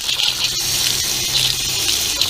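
Water pours steadily from a tap in a continuous hiss and splash, close and fairly loud, with no voices.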